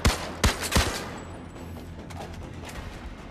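Gunfire in the video game Zero Caliber: three loud, sharp shots in quick succession, then a lower rumble of fainter reports and game noise.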